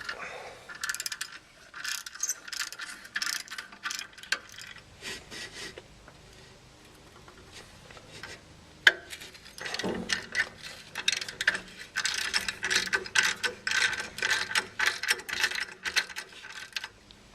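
A hand ratchet clicks in quick bursts while working on the brake caliper bolts of a Nissan Pathfinder, close up, with short pauses and a sharp knock partway through.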